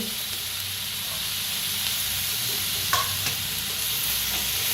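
Garlic, ginger, chillies and cashews frying together in a pan make a continuous hissing sizzle, with a sharper stirring scrape partway through and no voices.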